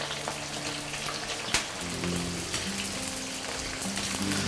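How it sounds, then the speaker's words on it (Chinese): Chopped large onions hit hot chicken fat and oil in a home kitchen, raising a steady crackling sizzle with scattered pops and a low sputter, close by with no voices. "好，我们油温烧到4成热之后呢，我们开始下入这个洋葱"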